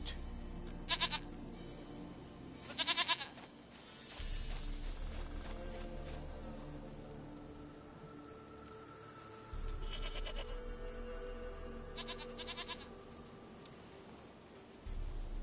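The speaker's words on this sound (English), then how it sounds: "Goat of mine, dearest, sweetest goat." A goat in a video game gives several short, nasal bleats in separate bursts, spread over a quiet background with a low hum that cuts in and out between them.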